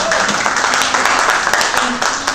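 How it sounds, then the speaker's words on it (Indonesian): An audience at a teachers' talk show applauds, a loud, sustained spread of clapping with a few louder claps standing out and some voices mixed in. "Tepuk tangan untuk kita semuanya"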